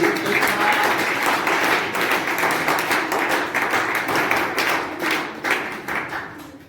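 Audience applause at a college event, dense steady clapping from many hands filling the space at moderate loudness, continuous throughout with slight swells and no speech over it.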